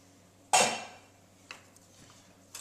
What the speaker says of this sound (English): So I'm going to remove the lid.